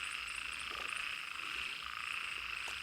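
Frogs croak in a forest at night after rain, a dense, continuous chorus of overlapping calls filling the whole stretch, steady and fairly close, with no voices.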